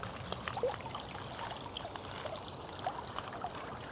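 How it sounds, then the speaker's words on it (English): A small woodland stream ripples and trickles steadily under overhanging trees, a soft continuous wash of water with faint scattered splashes, fairly quiet and without voices. "how can you not appreciate the calming ripple of the small stream?"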